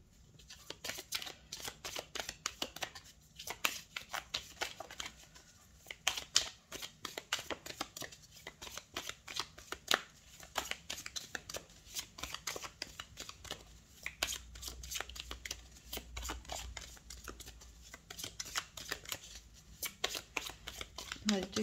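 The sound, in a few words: tarot cards being shuffled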